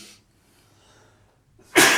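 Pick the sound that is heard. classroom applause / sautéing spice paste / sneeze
sneeze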